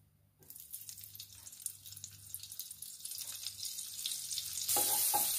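Butter and olive oil sizzling in a pan for a quick mixed vegetable soup, a hiss that starts after a moment of quiet, swells steadily and grows louder near the end, with no talking over it.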